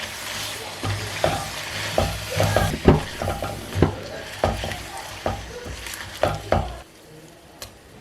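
Chicken biryani masala with green chili, coriander and mint being stirred in a pot, with intermittent close spoon scrapes and knocks over a low sizzle, quieting near the end.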